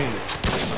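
Sustained burst of video game gunfire on the Scrapyard map during a competitive match, loud and dense across under a second with a sharp impact in the middle.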